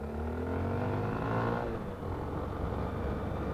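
A 2020 Honda XRE 300 motorcycle accelerates hard from close by, its engine note climbing steadily through the gears before settling into a rough, steady drone. No one speaks over it.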